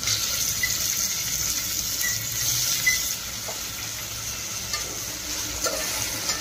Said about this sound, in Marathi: त्यात थोडा टोमॅटो टाकू, कापलेला बारीक कापलेला टोमॅटो